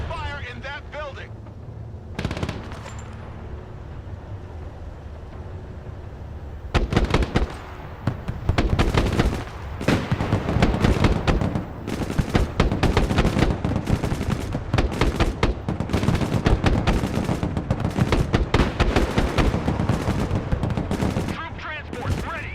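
Gunfire and explosions in the video game Broken Arrow, with dense rapid volleys and bursts of shots kicking in after a quieter opening and continuing loudly throughout, mixed with battlefield noise and voices.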